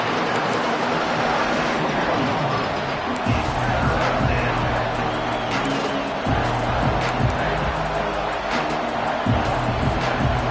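Stadium crowd roar in the college football video game NCAA 26, Auburn against Georgia, a dense continuous din with bursts of yelling and cheering throughout.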